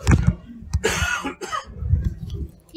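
A person clears their throat a few times, rough guttural bursts with a short cough-like rasp, close and fairly loud with brief pauses between.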